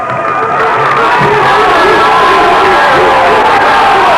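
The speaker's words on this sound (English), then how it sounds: "Round 7, the crowd comes to its feet, cheering Downey on as Henegan lands a left hand." A loud boxing crowd on its feet, cheering steadily through a fight round with whoops and shouts, with a commentator's voice running under the din.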